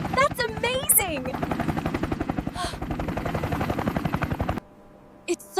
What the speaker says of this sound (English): The helicopter spotted us and landed to help Kai